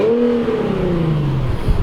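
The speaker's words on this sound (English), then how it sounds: "I'll rev it up a little bit so you can hear that nice VQ37 with an exhaust on it" A 2012 Infiniti G37X AWD sedan with a VQ37 engine, performance exhaust and intake revs up loud and close, its deep exhaust note rising and then slowly falling back toward idle, with no voices over it.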